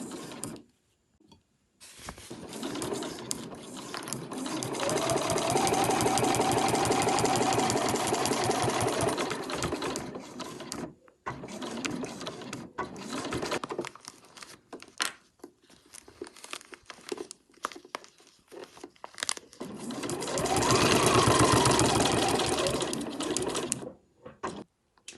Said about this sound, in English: And I'm going to sew until I get to my halfway point just here